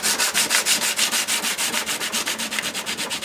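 A hand scuffs an oxidized metal sideplate for a ghost trap prop to remove the oxidation. Steady, rapid back-and-forth rubbing strokes sound close and loud, about six per second, rasping evenly throughout.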